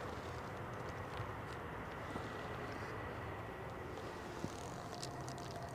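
An airliner touches down at Manchester Airport in stormy weather with a hard, bouncy landing on the rear undercarriage. Its engines come through as a faint, distant broadband rumble under wind, with a small thump near the end.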